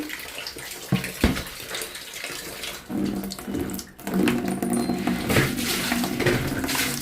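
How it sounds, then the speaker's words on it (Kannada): Water from a tap gets going after a few knocks and clatters, then pours in a steady, close, continuous stream into a basin for the rest of the stretch. "ಮತ್ತು ಸಣ್ಣಗೆ ನೀರು ಬಿಡಕತ್ತಾರ ನೋಡ್ರಿ"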